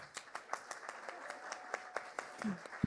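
Audience clapping to welcome a pastor at a church book launch, a sparse group of hands beating in a fairly steady rhythm, moderately close, with a brief voice fragment near the end.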